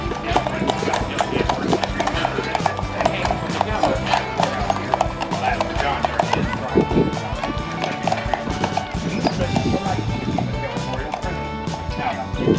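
Horses clip-clopping in Tombstone, Arizona, a steady loud rhythm of hooves with some whinnies, close up and under talk.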